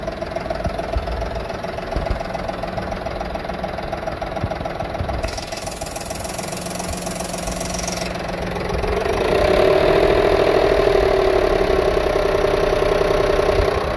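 A 1998 Ford Expedition engine idles steadily with a failing upper lifter, giving a continuous mid-pitched running note with a fine ticking texture throughout, swelling slightly louder toward the end, with no voices.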